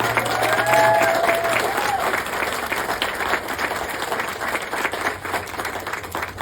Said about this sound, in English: thank you very much for that applause